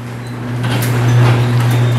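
A motorized garage door running as it closes, a steady low mechanical hum with faint rattling that grows slightly louder across the clip, heard alone with no talk.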